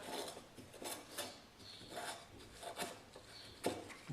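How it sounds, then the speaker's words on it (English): A Scotch-Brite pad rubs back and forth across the mating surfaces of a hand plane during a tune-up, giving a steady run of close, soft rasping strokes with no talk. "Take a little Scotch-Brite, just go across them."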